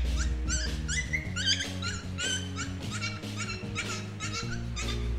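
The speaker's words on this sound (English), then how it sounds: "once the pups reunite, vicious fights break out" Young coyote pups fight in a summer den area, producing a dense tangle of yips, whimpers, squeals and high whines. The frantic calls overlap continuously at close range with no talk.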